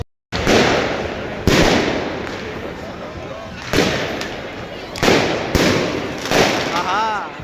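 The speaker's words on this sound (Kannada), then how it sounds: "ಪಟಾಕಿ ಪಟ" Several sharp firecracker bursts go off one after another at irregular intervals, each followed by a crackling, hissing tail, fairly close and loud.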